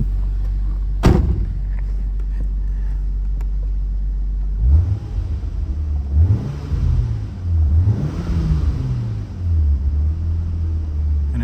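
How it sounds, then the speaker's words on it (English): A 1999 Nissan Skyline R34 25GTT, still in a cold start, idles with a steady low rumble, then takes a few short blips of throttle that rise and fall in rolling revs, close and loud, with a click near the start and no talking. "All right, we're gonna give it a little bit of gas here."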